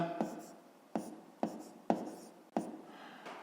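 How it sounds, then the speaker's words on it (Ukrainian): Pen writing on paper in short, distinct scratchy strokes, about five evenly spaced bursts, close and fairly quiet, during a math exercise. "Пишемо в дужках"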